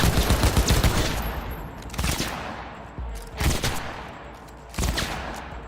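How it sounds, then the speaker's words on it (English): Automatic gunfire rings out in Cyberpunk 2077, loud and close: a rapid opening volley followed by several shorter bursts at uneven intervals, each fading into a rumbling echo. "It's not particularly accurate, this particular gun."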